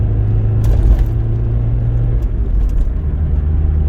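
A Rover car engine pulls through first and second gear at just over 1000 RPM, a loud, low, steady rumble with a faint whir on top, heard close up without talk.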